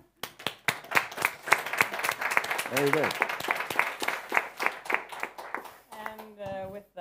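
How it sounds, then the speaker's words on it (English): An audience at a panel discussion on the mind gives a steady round of clapping lasting several seconds, fairly close and even, with a brief spoken voice near the end as it tapers off. "So give yourself a round of applause."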